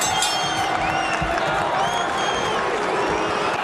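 A boxing crowd at the Mike Tyson vs James Tillis fight in Glens Falls, New York, keeps up a steady roar of applause and cheering with scattered whistles and whoops, filling the arena continuously from start to finish.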